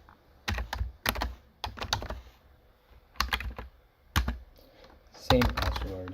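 A password is typed on a computer keyboard during an Ubuntu install, heard as several short clusters of crisp keystrokes separated by pauses, close and clear, with someone speaking briefly at the end.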